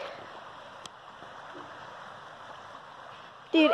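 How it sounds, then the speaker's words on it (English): A woodland creek runs with a faint, steady rushing murmur on a hot sunny day, heard from a short distance, with a sudden louder rustle at the very end. "I can hear the water running"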